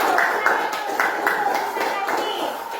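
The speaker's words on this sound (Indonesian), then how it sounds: "Kita kasih tepuk tangan untuk kelompok 1." Scattered, light clapping from a small group welcoming group 1 in a classroom, a few uneven claps over a couple of seconds with voices nearby.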